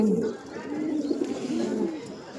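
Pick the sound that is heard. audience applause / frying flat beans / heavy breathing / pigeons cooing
pigeons cooing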